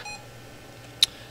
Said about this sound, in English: Also, my Roger beep.